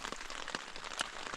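Rain patters on a solo tent during a wild camp on Helm Crag, a soft, steady spread of fine drops with a few louder taps against the fabric.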